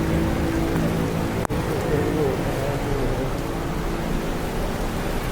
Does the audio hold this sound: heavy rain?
yes